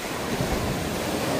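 Sea waves roll onto the beach at a resort in Kayupo, Sarangani Province, a continuous soft wash of surf with light wind noise.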